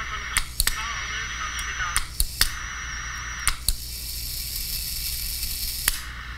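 Panasonic Radar Matic radio receiver on a lab bench, tuned across stations with a steady whistling carrier tone over hiss and static, broken by sharp clicks and pops.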